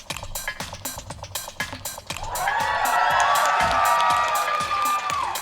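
Large convention crowd at a BronyCon panel cheering and whooping, rising after two seconds of scattered claps and shouts into sustained loud roaring applause that fills the rest of the stretch.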